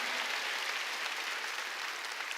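Steady applause from a large church congregation during a sermon, a dense wash of clapping held at an even level for a few seconds.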